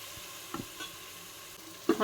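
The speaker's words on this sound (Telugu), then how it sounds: "నూనెలో మంచిగా బ్రౌన్ కలర్ రావాలి అల్లం పేస్ట్." Ginger paste frying in oil with a faint, steady sizzle, punctuated by a few soft scrapes of a spoon stirring the pan and a louder knock near the end.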